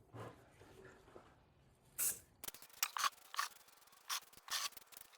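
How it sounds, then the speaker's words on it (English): Short hissing bursts of Rust-Oleum aerosol spray paint for plastics onto plastic, several quick sprays in a row after some quiet handling noises. "I'm gonna spray it with some of this Rust-Oleum paint for the plastics"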